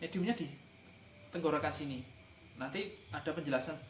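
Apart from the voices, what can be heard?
None of the usual background noises is heard.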